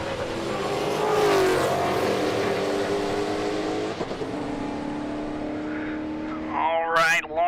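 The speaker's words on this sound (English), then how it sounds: "Lawrence up on the converter, blowing the tires off" Drag racing car launching hard off the line with its tires spinning, engine roaring loud and near before trailing off, with an announcer talking over it.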